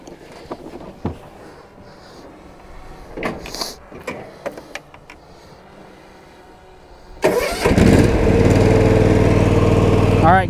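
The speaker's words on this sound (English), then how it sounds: "Start the mower up, let you hear it." A John Deere X380 riding lawn mower sits quietly with a few clicks and rustles, then its engine cranks and catches about seven seconds in, running loud, steady and close at hand.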